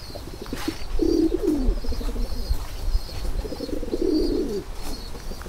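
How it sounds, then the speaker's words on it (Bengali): Siraj pigeons cooing nearby, two drawn-out throaty coo phrases rising over a steady hum of background noise. "আর সিরাজ কবুতরগুলো দেখেন কি রকম ডাক দেয়।"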